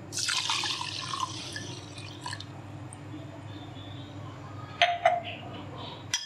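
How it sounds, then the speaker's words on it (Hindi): Lemon and orange juice poured into a bowl of sugar for fruit chaat, a soft liquid splash and trickle at the start, then quiet kitchen background with a few brief clinks later. "बोल में चीनी डालेंगे, लेमन जूस लेंगे, और ऑरेंज जूस लेंगे।"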